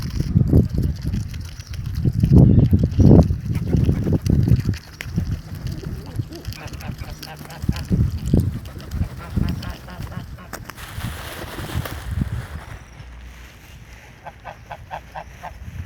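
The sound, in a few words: geese being fed by hand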